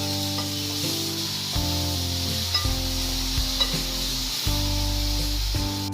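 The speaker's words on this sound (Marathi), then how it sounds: "शेंगा पण आपल्याला थोड्याशा भाजून घ्यायच्या आहेत।" Cowpea pods roast in a pan, giving a soft continuous sizzle and hiss under intermittent tonal sounds, with occasional scraping stirs and light clicks.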